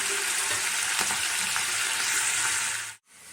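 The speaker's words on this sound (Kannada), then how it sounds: "ಇದೆಲ್ಲ ಸ್ವಲ್ಪ ಚಟಪಟ ಅಂತ ಸಿಡಿಲಿ." Mustard seeds, cumin, lentils, fenugreek, dried red chilli and curry leaves splutter and sizzle in hot tempering oil for ragi shavige upma, a steady close crackle with scattered pops that cuts off abruptly near the end.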